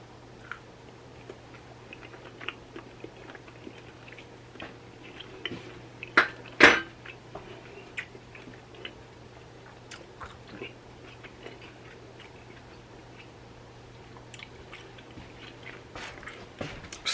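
Steak with creamy corn risotto being eaten, with soft close chewing and bites alongside a few utensil clinks and a sharp clatter midway, over a steady low hum, no talking.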